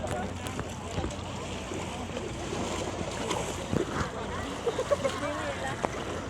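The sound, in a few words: boat ride for island hopping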